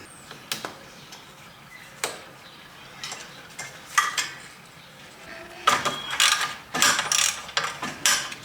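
Smash sensors are unbolted from a 2015 Mercedes-Benz C450 AMG with a ratchet. Scattered clicks and metallic clinks come first, then denser bursts of ratcheting near the end, all close and fairly sharp.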